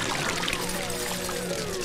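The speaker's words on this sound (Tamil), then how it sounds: "இந்த தீவனத்தை எங்க ஊத்த?" Liquid animal feed poured over a person's head in a Tamil film scene, a steady, close, wet pouring and splashing that runs continuously throughout.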